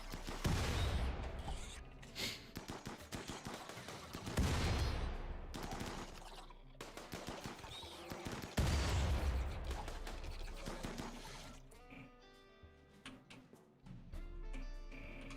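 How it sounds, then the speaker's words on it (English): Gunfire from a fight against mega scarabs in the Rimworld video game, dense overlapping shots and impacts that mix with creaks and clanks, steady and loud and then thinning toward the end. "So, Young, stop firing."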